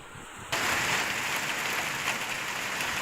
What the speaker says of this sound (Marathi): तर जुन्नरमध्ये देखील जोरदार पाऊस कोसळलेला आहे।